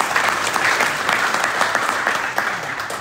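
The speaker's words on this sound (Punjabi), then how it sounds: "ਤਾੜੀਆਂ ਮਾਰ ਦਿਓ।" An audience claps steadily to honor volunteers at an academy event in Fresno, a dense, continuous round of applause filling the whole moment without any voices.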